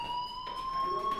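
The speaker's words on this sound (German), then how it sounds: "Hey, do you hear that fire alarm?" A fire alarm rings in a school building in the Life is Strange video game, a steady high electronic tone with harmonic overtones, continuous and fairly loud, with faint background noise beneath it.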